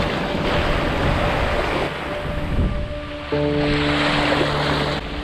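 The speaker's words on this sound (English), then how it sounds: "We get up to 35 knots of wind around Tarifa and do experience some of the choppy waves." Choppy sea waves wash and slap steadily under strong wind noise while sailing near Tarifa in the Strait of Gibraltar, in winds up to 35 knots, with a steady low tonal hum joining partway through.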